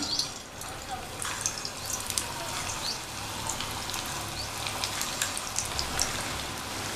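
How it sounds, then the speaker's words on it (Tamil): Kola urundai balls crackle softly in oil in a kadai over a moderate flame, a steady fine sizzle with scattered pops running evenly throughout. "நம்ம உருட்டி வச்ச உருண்டைகளை ஒவ்வொன்றா மெதுவாக எண்ணெயில் சேர்த்துடலாம்"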